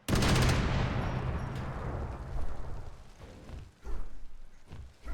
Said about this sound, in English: So this machine gun, yeah, it's got 800 bullets